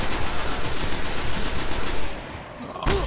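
Rapid automatic gunfire from the Destiny video game rattles close and loud for about two seconds, then drops away before a single sharp shot near the end.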